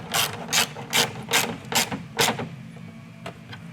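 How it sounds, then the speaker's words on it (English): A ratchet with a 10mm socket tightens bolts during an install on a 2020-2022 Ford Mustang Shelby GT500, six quick rhythmic ratcheting bursts close up, then a lone faint click. "using the 10mm socket, go ahead and tighten the bolts"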